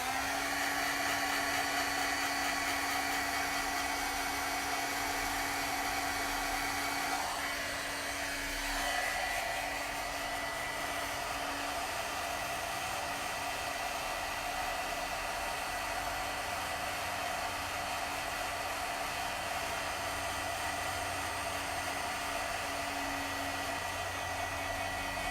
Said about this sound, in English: that's not a Stampin' Up heat gun, that's a Milwaukee heat gun